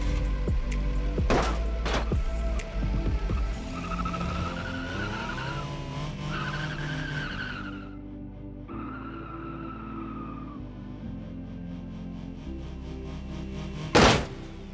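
Ibishu Wigeon and Ibishu Pigeon cars in a BeamNG front impact test: engine drone and long tire squeals build up, followed by a sudden sharp crash near the end.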